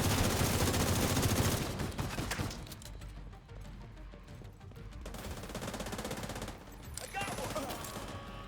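Gunfire in the video game The Division 2 comes as dense automatic bursts, loudest in a sustained volley at the start and returning in later rattling bursts, with a voice heard between the shots.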